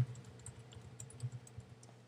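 Quiet typing on a computer keyboard, a rapid run of soft clicky keystrokes at close range with low background hum and no voices.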